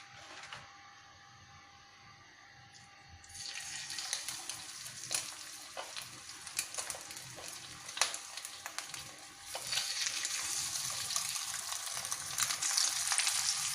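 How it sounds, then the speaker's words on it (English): Saba fish goes skin side down into hot oil in a pan and bursts into a steady, crackling sizzle after a quiet start, with sharp pops and spatters continuing to the end. "put in the Saba fish with the skin facing downward"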